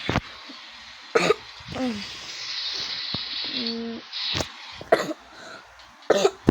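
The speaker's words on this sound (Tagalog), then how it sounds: "Iba na yung ubo ko" Several separate coughs, sharp and close, spaced out over a few seconds, with quieter throat sounds and background hiss between them.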